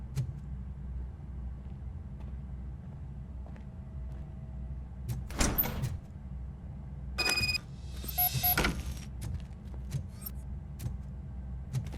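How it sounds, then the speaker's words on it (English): Door opening in the RoboCop: Rogue City video game, heard as a couple of sharp mechanical bursts with a whirring slide and metallic clatter over a low steady hum, with no talk. "Now let me get that door open for you."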